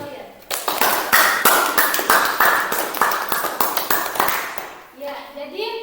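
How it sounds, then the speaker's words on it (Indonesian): Children clap together in a classroom, a dense run of sharp rhythmic claps lasting several seconds that fades out, followed by brief voices. "coba berikan tepuk tangan dulu untuk hasil karya teman-teman kalian."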